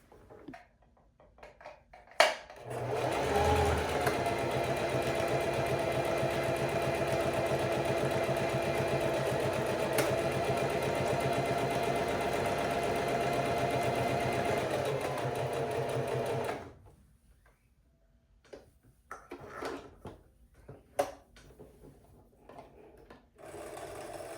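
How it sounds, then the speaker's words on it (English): Sewing machine stitching buttonholes on linen pants, a steady close mechanical whir that runs for about fourteen seconds, then stops and gives way to soft handling clicks and rustles. "that's where I'm going to start my stitches"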